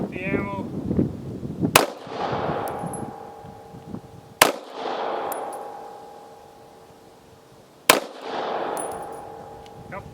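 Three sharp, loud shots from a Taurus 709 Slim pistol firing decades-old ammunition, spaced a few seconds apart, each with a ringing echo tail; a voice murmurs briefly before the first shot.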